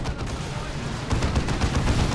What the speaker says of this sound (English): It's got a Stranglethorn cannon.